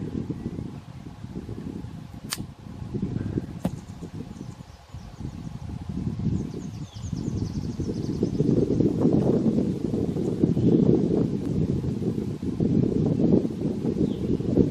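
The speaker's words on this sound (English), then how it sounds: "So today we've got some wind" Wind buffets the microphone at an outdoor shooting range, a low, gusty rumble that swells and fades unevenly and grows stronger toward the end, with two faint sharp ticks early on.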